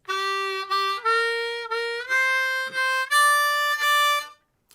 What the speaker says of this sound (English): so that is this climbing riff